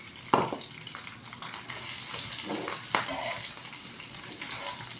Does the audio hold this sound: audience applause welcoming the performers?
no